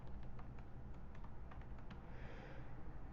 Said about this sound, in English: I'm fucking typing this in